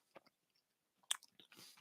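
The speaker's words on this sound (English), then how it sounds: "Enjoy the munching sounds." Close, quiet munching on Halloween candy, a few soft crunchy bites and chews in two short bursts separated by a pause, with moist mouth sounds at the end.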